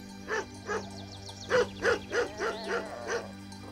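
A small dog barks in a quick series of high, yappy barks, about eight in a row, close by against a steady low hum.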